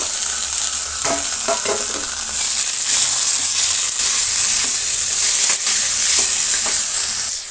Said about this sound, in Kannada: ಈಗ ನಾವು ಬೀಟ್ರೂಟನ್ನು ಸೇರಿಸೋಣ.